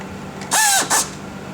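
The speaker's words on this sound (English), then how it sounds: "And install the 6 screws." A power driver sinks screws to refit the plate on a Vandersteen Classic speaker, one short rising whir followed by a brief second burst, close and loud over a quiet room.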